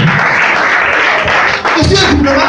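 An audience at a church gathering applauds and cheers for the Lord, a loud, dense wash of clapping and voices that fills the whole moment.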